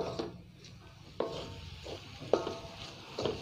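A spoon stirs mushroom masala in a pan over a quiet, steady sizzle, with a few distinct scraping knocks against the metal at irregular intervals.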